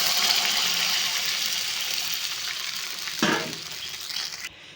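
A drumstick kara kuzhambu frying in a pan sizzles steadily, then tamarind water splashes in with a short gush and the hiss softens before cutting off; no voices.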